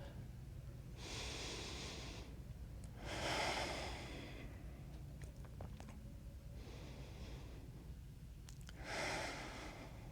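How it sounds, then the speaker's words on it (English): Slow nasal inhalations during deep diaphragmatic belly breathing while lying on the floor, a few long soft airy breaths in and out, close and quiet. "You're breathing in through the nose,"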